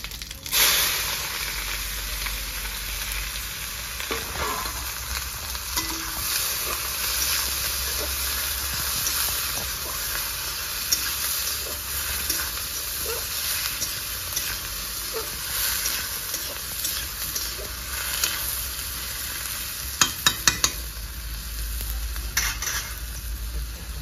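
Dry chillies, whole cumin and chopped onion fry in hot oil, making a steady close sizzle and hiss with occasional stirring scrapes. It continues without any talk.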